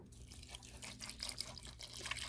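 Filtered water poured into a jar of fermenting pineapple with star anise and cloves, a soft steady trickle and splash with faint dripping, close and quiet, no talking.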